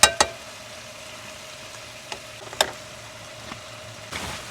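Hamburger and peppers cook on a camp stove outdoors, giving a faint, steady sizzle broken by several sharp utensil clicks and taps, with no talking.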